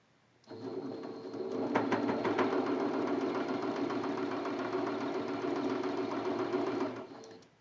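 A sewing machine stitches quilt-block fabric with a quarter-inch seam, running steadily for several seconds, its needle whirring in a fast, even rhythm at close range, starting and stopping cleanly.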